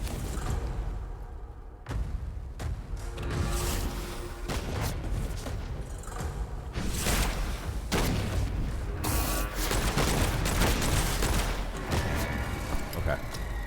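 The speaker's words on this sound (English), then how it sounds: "I like that guy's musket can fire twice." Gunfire from a musket that fires twice in the video game Witchfire, loud repeated booming shots and mechanical clatter layered over dense game combat noise throughout.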